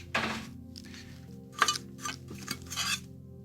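Small metal Floyd Rose bridge parts drop into a cup, making several light clinks and rattles spaced over a few seconds, close and fairly quiet.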